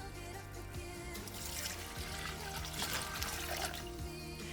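Beef broth pours steadily into a slow cooker freezer meal with Swedish meatballs, a continuous close splashing trickle with no talk over it.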